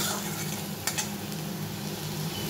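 Potato slices frying in a pan as they are stirred: a steady, close sizzle, with a couple of sharp utensil scrapes near the start and no voices.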